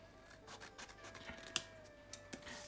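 Scissors cut through paper Christmas gift tags in quiet, faint snips and rustles, with a couple of sharper closer cuts and no one talking.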